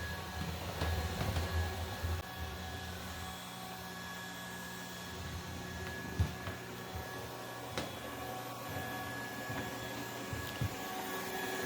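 A Yeedi Mop Station Pro robot vacuum runs steadily on its first cleaning pass, a constant motor and brush whir with a few light knocks and bumps against furniture, fairly close and without talk.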